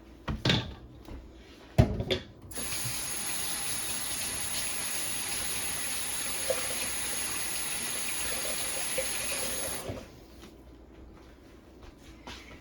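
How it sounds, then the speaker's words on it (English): A kitchen faucet runs steadily for about seven seconds while hands are rinsed beneath it, framed by cabinet knocks and clunks before and after, no talking. "let me wash my hands real quick"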